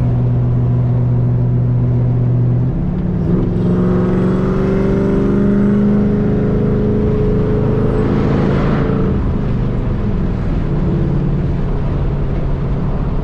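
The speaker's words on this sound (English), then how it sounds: "I like the sound of that car." A supercharged Ford Mustang GT with Cobra parts revs loudly and close by, its deep rumble building and swelling before settling back to a steady idle.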